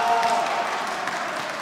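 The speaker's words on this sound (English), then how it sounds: "There's some claps for that" Steady applause and clapping from an audience at a card game tournament, a broad continuous patter held at even loudness for the whole moment, with crowd murmur blended in.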